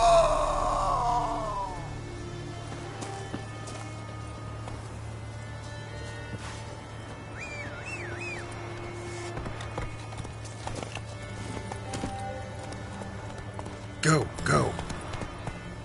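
Horse hooves galloping in a PS4 video game, a steady clip-clop rhythm under a constant low hum, with game voices talking over it and a louder burst near the end.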